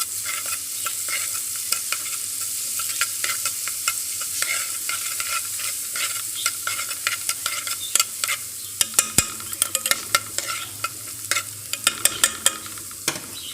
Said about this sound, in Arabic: حمر بقى التومه كده